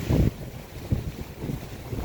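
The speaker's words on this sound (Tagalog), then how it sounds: "sobrang lakas po ng hangin ngayon dito" Strong wind buffets the microphone in rough, low rumbling gusts, with surging bursts over a constant blustery roar, in Masantol, Pampanga.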